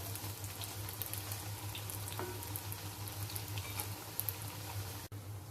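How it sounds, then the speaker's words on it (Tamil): Medu vada batter frying in hot oil, giving a steady, close bubbling sizzle that continues throughout with a low hum underneath. "எண்ணெயில் போட்டேன் மாவு வடை தட்டி போட்டிருக்கேன்"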